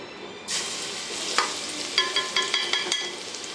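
Garlic hits hot oil for a vegetable curry and sizzles abruptly, then fries steadily while a spoon clinks against the pan in a quick series of taps.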